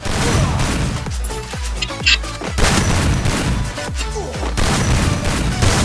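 Rapid gunfire bursts in a Free Fire battle royale match, loud close shots with echoing booms and falling-pitch weapon sounds, several volleys with brief pauses between them.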